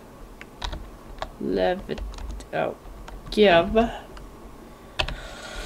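Scattered clicks on a computer keyboard, close and sharp, with a voice talking over the keystrokes.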